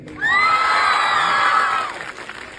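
An event audience bursts into loud, shrill cheering and screaming for Tamil film star Shanthanu Bhagyaraj, a sudden dense roar lasting nearly two seconds before dropping away to scattered noise.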